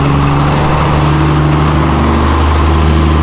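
A truck engine at a car meet runs close and loud, a thick, steady low drone with a strong humming tone and no break over a few seconds.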